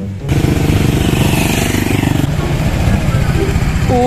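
Motorcycle engine revving up close, a loud throbbing burst that holds for a couple of seconds and then settles into a rough, pulsing idle.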